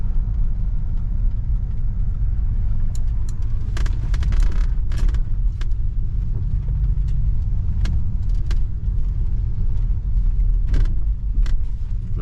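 Car interior of a 1971 Cadillac Deville during a test drive as it comes to a hard stop: a heavy, steady low engine rumble runs throughout, punctuated by scattered clicks and rattles, with no speech.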